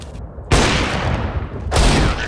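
Loud gunfire rings out in a multiplayer shooter video game: a short volley of shots followed, after a brief pause, by a second burst, all close and sharp.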